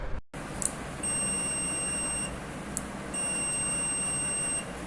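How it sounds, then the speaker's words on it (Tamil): Two sustained electronic beeps, each lasting about a second, from a multimeter continuity test, clear and close over faint background hiss. "நீங்கள் டச் பண்ணிங்கன்னா உங்களுக்கு ஒரு பீப் சவுண்ட் வரும்"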